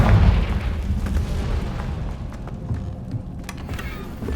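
A Confringo fire spell explodes in the Hogwarts Legacy video game: a deep, heavy boom that rumbles loudly at the start, then fades into a long rolling decay with scattered crackles.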